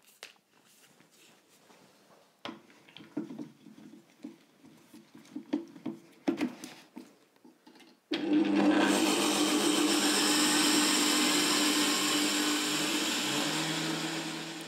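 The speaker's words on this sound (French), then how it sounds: "Je prends les graines de lin, je mets 2 cuillères à soupe et je vais les moudre." Two tablespoons of flax seeds going into a grinder, first a scatter of light rattling and tapping, then a loud steady high whirring grind that runs on without a break.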